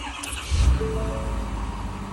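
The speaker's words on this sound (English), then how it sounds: "Truck fires right up." A Ford Super Duty truck engine cranks briefly and fires right up after a no-crank, no-start fault was fixed, settling into a loud, steady idle close by.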